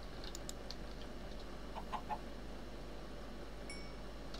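A Minecraft chicken clucks in short, faint bursts inside a coop, a few soft calls over steady low background hum.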